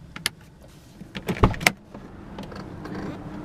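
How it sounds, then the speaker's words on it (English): A 1992 Volvo 240DL automatic's driver's side electric window goes up. A few sharp clicks come first, then a low, steady motor whir up close, with no talking. "put the automatic driver's side window back up"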